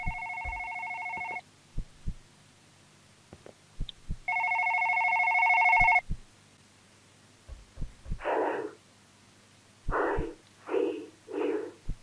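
In the video game One Late Night, a telephone rings in two loud electronic trills, then brief voices and soft knocks follow.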